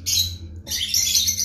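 A harlequin rosy-faced lovebird (Agapornis roseicollis) gives shrill, close chirps in two bursts separated by a brief pause, loud and bright over a low background hum.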